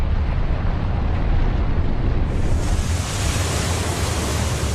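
Ocean surf breaking against the steep lava coast of Hawaii, a continuous loud roar of crashing waves with broad hissing wash that swells brighter partway through, no voices.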